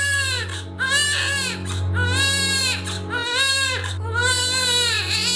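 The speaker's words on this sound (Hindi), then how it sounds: "रात को 2 बजे हमारा बच्चा रोया था।" An infant wails in loud, sustained crying bouts with short breaths between them, close by during a night-time household scene in a crime drama, over a steady low hum.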